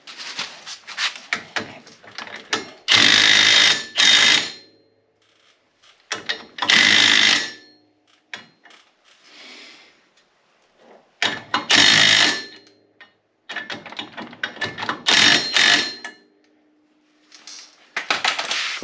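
Impact or ratchet tool tightening a castle nut on the rear axle of a 2025 Polaris RZR 800 S, loud bursts of a few seconds each separated by quiet gaps, with softer clicks between.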